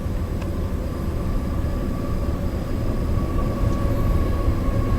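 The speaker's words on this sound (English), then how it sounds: "There's a train coming." A train passes near the old Clark County railroad station, a loud, steady, continuous rumble with a faint sustained tonal whine riding on top, unbroken for several seconds.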